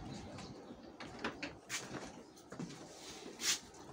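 The door of a small market kiosk swings open with a series of rattling knocks and clunks, ending in a sharp clack, while birds call faintly in the outdoor background.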